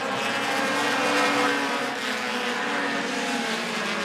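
Dash Series race cars lapping Rockford Speedway in a Midwest Dash feature, a steady dense engine roar from several cars running together, loud and continuous with a slight swell midway.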